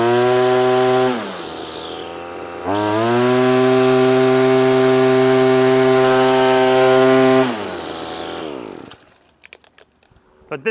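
A line trimmer's small two-stroke engine fitted with a new budget carburetor, running loud and close: a steady high buzz, a short dip, then a long sustained rev before cutting off into quiet clicks.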